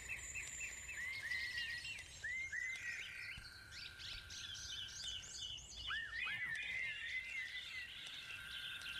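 Birds and frogs fill the outdoor ambience of the video game Lost Shipwreck: repeated bird chirps and rising whistles over a soft, steady insect-like background, faint and without speech.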